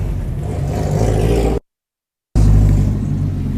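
Yamaha Mio scooter engine running steadily and loud, with a dense rumbling whir and a brief dropout to silence in the middle before the same engine noise resumes.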